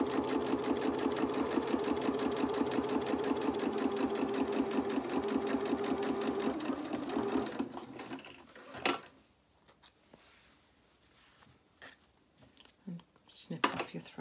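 A sewing machine stitches a long seam on a T-shirt dress, a close, rapid, even whir for about seven seconds before stopping, followed by quiet handling sounds and a voice speaking.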